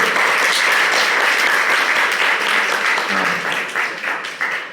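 Audience applause at a Gita seminar in a community hall, a sustained dense wash of hand clapping welcoming newcomers that tapers off toward the end without talk.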